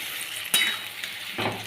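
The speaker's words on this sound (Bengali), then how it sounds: "আদা রসুন পেস্টটা দিলাম, আদা রসুন পেঁয়াজের মানে মিক্সিতে করলাম, করে আমি দিলাম, ঠিক আছে? এটাকে ভালো করে কষাবো" Ginger, garlic and onion paste sizzles steadily in a hot pan while a spoon scrapes and stirs it, with a couple of sharper clinks of utensil on metal over the continuous frying hiss.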